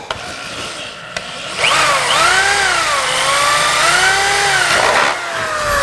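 A power drill fitted with a brad point bit bores into wood for a twisted hollow form, the motor whining and wavering in pitch under load for several seconds after a short start.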